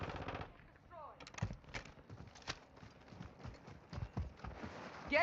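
Video game gunfire, rapid bursts of automatic shots and sharp cracks in quick clusters, loud and close, with brief game sounds mixed in.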